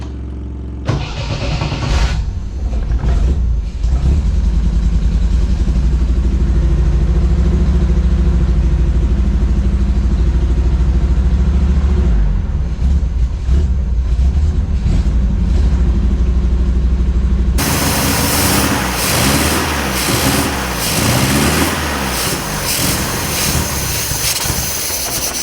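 An MGB sports car engine, run after sitting for ten years, rumbles loud and close with an uneven, stumbling misfire and a rough idle, then shifts to a harsher, louder rasping run for the final seconds.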